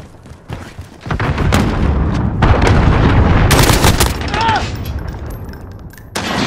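A cruise missile strike in Call of Duty Modern Warfare on Xbox Series X, with loud, sustained rumbling explosions and crackling blasts close by, building into a heavy roar before easing off, then another burst at the end.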